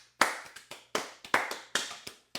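A handful of sharp, close hand claps in an uneven rhythm, about eight distinct slaps with short decaying tails and silence between them, no voices.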